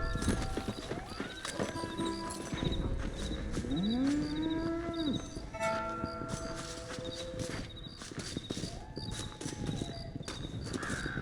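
Cattle moo and hooves clop steadily in Red Dead Redemption, with horses among the herd, one long low moo standing out over the busy rhythmic hoofbeats of livestock on the move.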